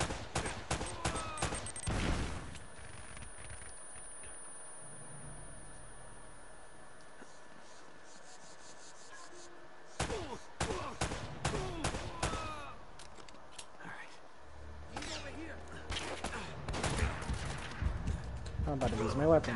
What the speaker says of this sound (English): sounds like a laser when you shoot it